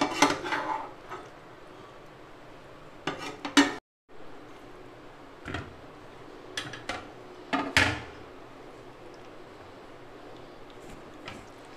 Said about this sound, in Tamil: நான் கிளறிட்டு காட்டுறேன் பாருங்கள்.